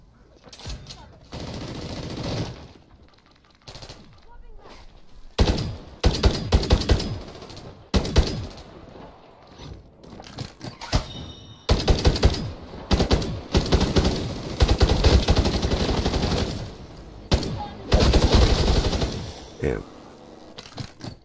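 Sentry gun in Call of Duty MWIII Zombies firing in repeated loud automatic bursts, broken by short pauses, amid other game sounds and voices talking.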